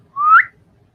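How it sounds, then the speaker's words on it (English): A single short whistle from a person, a clear rising tone lasting under half a second, close and alone in a quiet room. "Can I whistle?"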